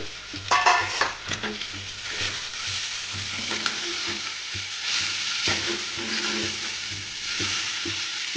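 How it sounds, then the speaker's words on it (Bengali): Pre-fried cauliflower and potato land in hot oil and spices and keep frying, with a steady close sizzle, a few spoon-and-pan clatters at the start, and stirring scrapes through the rest, no talking. "এবার আমি ভেজে রাখা ফুলকপি আর আলুটা দিয়ে"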